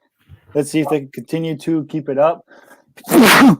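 A person sneezes once, a short, sharp burst that comes right after a voice finishes talking during a broadcast of an American football game.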